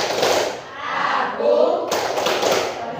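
Children in an Indonesian classroom do the concentration clap: a dense, continuous run of quick claps and thuds with short swells, mixed with voices chanting along.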